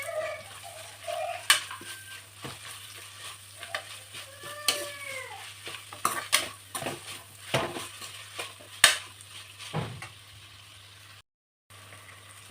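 Grated raw mango is stirred into a rice mixture in a pan, with irregular utensil clinks and scrapes over a low sizzle. A faint whining tone briefly rises partway through, and near the end the sound drops out for a moment.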